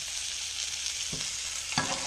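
Butter foams and browns in a pan while venison loin cooks, a constant close sizzle with a couple of soft stirring or shifting sounds, no voices.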